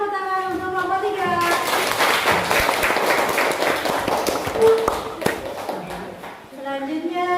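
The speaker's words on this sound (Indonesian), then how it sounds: "Kasih tepuk tangan untuk kelompok 3." Classroom group claps for group 3 after their presentation, a dense burst of hand clapping lasting several seconds, with voices at the start and end.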